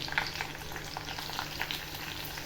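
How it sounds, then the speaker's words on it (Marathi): Garlic, green chillies and curry leaves fry in hot oil with cumin for a bitter gourd and chana dal sabji, a dense, steady crackling sizzle close up, with faint stirring and no talk. "आता लसूण टाकते लसूण टाकलं मिरच्या टाकते आणि कढीपत्ता टाकते"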